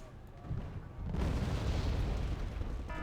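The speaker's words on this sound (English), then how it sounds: "Oop, counter artillery." Counter-artillery shells land in Wargame: AirLand Battle, a quieter rumble giving way after a second to a loud, sustained roar of overlapping distant explosions.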